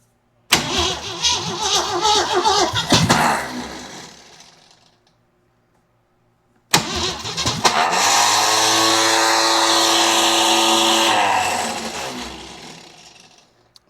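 Jeep CJ7 with a worn starter or solenoid cranking in a choppy burst that dies off, then after a pause cranking again and catching into a steady running idle that fades out.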